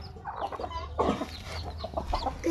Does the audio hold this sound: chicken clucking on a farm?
yes